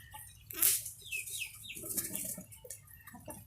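Young Sebright roosters about three months old cluck and chirp in a farmyard, a few short close calls scattered over quiet background with no talking.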